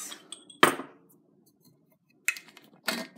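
Two cups for watercolor painting are set down on a studio work surface, giving a few sharp, separate clinks and knocks with quiet pauses between them, close by.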